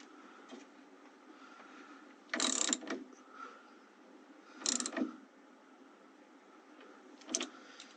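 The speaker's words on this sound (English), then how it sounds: "So I'm going to go ahead and tighten down on this." Tightening hardware on a 1980 Camaro steering column: three short bursts of ratcheting clicks, spaced a couple of seconds apart, over a faint steady background hum.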